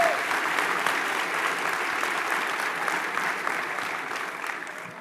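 A town hall audience applauds steadily, a dense wash of clapping from many hands that holds at an even level throughout and tapers slightly at the end.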